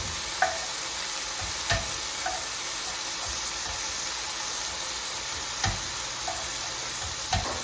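Meat browns steadily in a hot frying pan, a constant frying hiss with a few faint clinks of a utensil.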